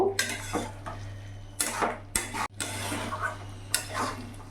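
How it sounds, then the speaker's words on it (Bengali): A utensil scrapes and clatters in a pan as fried potatoes and pointed gourd are stirred into cooked spices, several short bursts of stirring close by with a faint sizzle underneath. "এবার এখানে ভেজে রাখা আলু পটলটা পুরোটা দিয়ে দেবো। ভালো করে মিশিয়ে নেব।"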